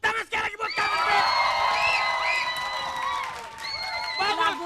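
Studio audience at an Indonesian TV talk show cheers and whoops for a band over a musical sting, with a host's voice briefly audible at the start and end.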